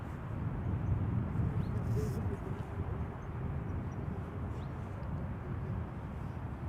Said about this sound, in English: Delta Airlines flight 236 up first, arriving from Tampa in Florida.